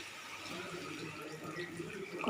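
Water pours steadily into a cooking pan holding crab for a gravy, a soft, continuous splashing trickle heard fairly faint and close.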